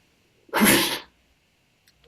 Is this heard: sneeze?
yes